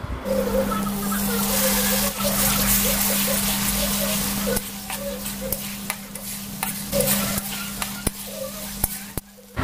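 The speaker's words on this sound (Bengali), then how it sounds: "মশলাটা ভালো করে কষানো হয়ে গেলে এর মধ্যে আদা রসুন আর কাঁচা লঙ্কা বাটা দিয়ে আমি আরও 2 মিনিটের জন্য মশলাটাকে কষিয়ে নেব" Masala with ginger, garlic and green chilli paste frying in oil in a pan while being stirred: a soft, steady sizzle with scraping and light clicking from the spoon, and a low hum running underneath.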